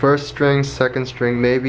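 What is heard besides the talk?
No everyday noise stands out behind the speech.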